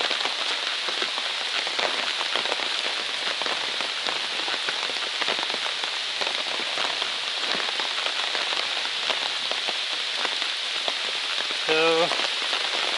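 Steady rain falls on a hiking trail in New Hampshire, a dense, even hiss of drops pattering on surfaces close by, with a faint brief voice near the end.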